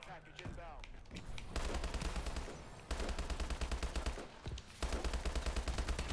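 Rapid bursts of automatic gunfire from a Call of Duty match, loud and near, with sustained rattling volleys broken by brief pauses and a few sharper shots.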